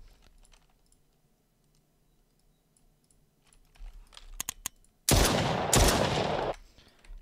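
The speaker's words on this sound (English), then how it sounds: "sound, pistol fire" Pistol fire sound effect inside Unreal Engine, two loud gunshot bursts close together after some faint keyboard and mouse clicks, otherwise quiet.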